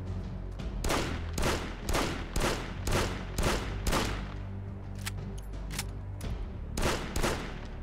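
Full-auto rifle fire from a WW2 zombie co-op shooter, Projekt Z, comes in rapid repeated bursts, loud and close, with short gaps between bursts and a few single shots near the end.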